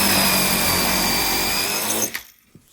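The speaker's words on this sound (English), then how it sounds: "I'm using the drill block to make sure that this stays nice and square as I drill right through." A power drill fitted with a brad point bit bores through plywood, held square in a drill block, making a loud steady whir and cutting noise for about two seconds before it winds down and stops.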